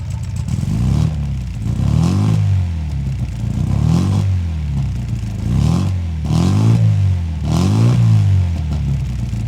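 A car engine revs repeatedly in steady surges roughly every two seconds, its exhaust pressure pulses roaring loud and close through the headers and mufflers.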